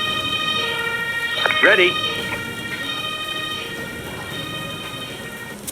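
Wailing ambulance siren in a firefighting and rescue video game, a brief rising-and-falling sweep over steady background hum and a layered electronic drone, with a short spoken word from a voice.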